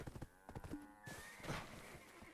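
Horse hooves clop in the online role-playing game Black Desert Online, a quick rhythmic run of muffled beats at low level, mixed with other game sounds.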